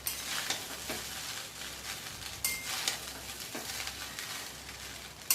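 Rice and vegetables stirred in a frying pan on a gas flame, a soft continuous sizzle with periodic scraping sweeps of a spoon against the pan, quiet and close.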